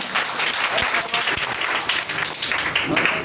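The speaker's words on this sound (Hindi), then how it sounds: "इनके लिए एक बार जोरदार ताली बजाएंगे।" Hearty audience applause greets a student being honored at a Teachers' Day celebration, a dense steady wash of clapping from a crowd at close range that holds for the whole moment.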